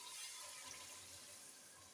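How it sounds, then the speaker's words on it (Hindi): Water pours steadily from a glass into a pot of mutton paya, a continuous close splashing rush with no talk. "अब हम इसमें डालेंगे 1 गिलास पानी"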